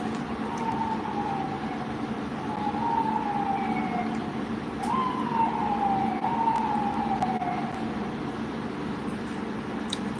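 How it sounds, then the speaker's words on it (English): Emergency sirens wail in the distance with rising and falling tones, heard over steady traffic rumble and road noise. "You hear the sirens?"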